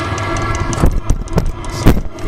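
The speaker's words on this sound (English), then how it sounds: "Now you can hear that dosing pump firing up." A diesel heater's small fuel dosing pump ticks in sharp, regular pulses about every half second over a steady mechanical hum and rumble, close by.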